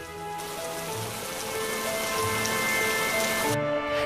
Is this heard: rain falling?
yes